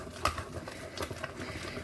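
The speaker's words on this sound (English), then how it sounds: "Figure of 8 motion and whizzing that mixture around." Egg being vigorously beaten into choux pastry dough in a figure-of-eight motion, a soft, close, irregular slapping and squelching patter with a few sharper wet clicks, no talking.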